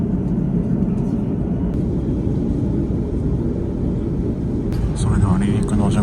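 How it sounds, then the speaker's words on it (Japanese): Steady low engine rumble fills a business-class airliner cabin on a Beijing-bound flight, waiting before takeoff. The drone is constant and close throughout, with a slight swell near the end. "今から離陸します"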